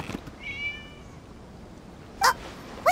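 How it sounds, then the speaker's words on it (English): In the video game Genshin Impact, a single cat gives one clear, drawn-out meow, followed by a couple of short bright sound effects against a quiet background. "It was just a cat."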